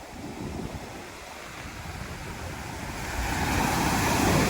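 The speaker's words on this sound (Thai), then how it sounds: "เห็นไหมคลื่นก็จะเซาะมาเป็นคันเลยนะครับ" Strong waves break on a beach at Rayong, a steady roaring surf mixed with wind noise that swells louder toward the end, with no voices.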